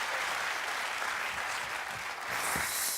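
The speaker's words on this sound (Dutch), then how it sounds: "mag ik een hartelijk applaus voor mijn favoriete kandidaat van de avond, Chloe Stoeltie." Audience applause for a contestant on a Dutch talent show, a broad, even wash of clapping from a large crowd filling the room, slightly distant and continuous, with faint cheers near the end.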